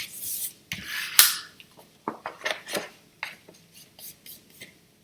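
A scraper is dragged over a scored paper fold while a pop-up card is being made, giving a series of short, crisp rubbing and scraping strokes at close range with brief pauses between them.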